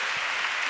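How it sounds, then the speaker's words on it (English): Brief burst of steady audience applause at a women-in-tech event, a dense wash of many hands clapping with no break. "I think we should give her an applaud"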